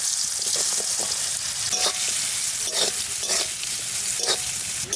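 Fresh garden vegetables frying with salt and turmeric, sizzling loudly and continuously up close while a utensil scrapes and stirs through the pan in irregular strokes.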